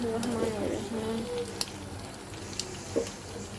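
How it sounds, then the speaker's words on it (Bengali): Pasta going into a hot pan, a steady close sizzle with a few sharp clicks and scrapes, while a voice hums or speaks faintly under it at the start. "এখন আমি পাস্তাটা দিয়ে দেবো"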